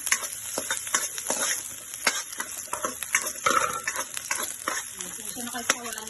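Sliced onion and garlic sauté in a large wok, a soft, steady frying crackle with frequent light stirring clicks and scrapes, fairly quiet throughout.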